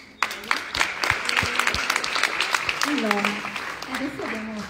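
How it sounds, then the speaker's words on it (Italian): Audience at an Italian book-launch meeting with an author claps in a steady, dense burst of applause lasting throughout, with a voice speaking briefly over it near the end. "Un applauso anche a voi."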